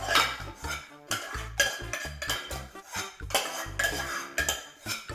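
Pineapple rice scraped and spooned into a serving dish, with repeated clinks and scrapes of a metal utensil against the container in an uneven rhythm, close and fairly loud.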